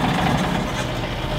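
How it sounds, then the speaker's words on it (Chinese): The engine of a GALION T500 motor grader, abandoned for 17 years in a forest and fed starting fluid, catches and runs roughly for a moment with a low, rumbling idle close by. "下一秒机舱内的发动机总算是启动了起来"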